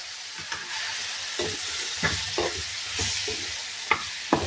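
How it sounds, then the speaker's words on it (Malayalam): Cut lemons for lemon pickle sizzle in a hot pan as a spoon stirs them, a steady frying hiss broken by repeated scraping knocks. "ഇതിലേക്ക് നാരങ്ങ, കട്ട് ചെയ്ത് വെച്ചിരുന്ന നാരങ്ങ ആഡ് ചെയ്ത്."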